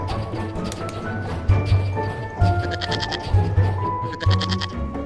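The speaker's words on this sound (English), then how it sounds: "it's a goat" A goat bleats repeatedly from a LEGO DUPLO toy train set, several nasal wavering cries in a loose rhythm about once a second, close and clear over light background tones.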